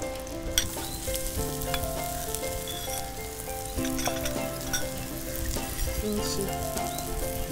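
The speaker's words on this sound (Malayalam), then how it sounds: "എണ്ണ ചൂടായിട്ടുണ്ട് നമ്മൾ സ്ലൈസ് ചെയ്ത് വെച്ചിട്ടേക്കുന്ന ഉള്ളിങ്ങ" Sliced onions frying in hot oil in a pan, with a steady, close crackling sizzle that runs throughout and occasional scraping stir strokes, no talk.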